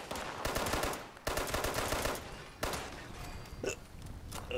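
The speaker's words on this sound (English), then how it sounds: "I got the hiccups." A Fallout 76 character hiccups in sharp, abrupt bursts that punch through a dense clatter of rapid gunfire-like noise.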